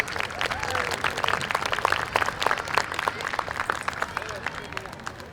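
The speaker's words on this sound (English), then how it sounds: "Let's give them more round of applause." An audience at an interfaith music festival applauds performers, with dense clapping mixed with crowd murmur and voices throughout.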